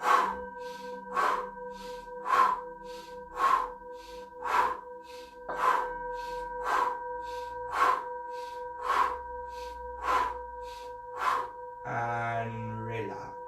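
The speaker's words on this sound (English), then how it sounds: "you're going to breathe in through the nose, out through the mouth in a steady pace" Rapid breathing as part of a breathing exercise: eleven evenly spaced sharp breaths over a steady hum, each a quick draw in through the nose and push out through the mouth, close and loud, followed by a short spoken phrase.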